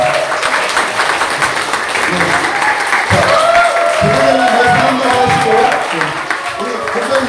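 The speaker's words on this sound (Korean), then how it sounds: "우리 박수" A room full of people at a Korean military church service breaks into loud applause, with some cheering and voices talking over the clapping.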